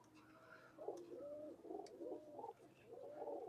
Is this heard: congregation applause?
no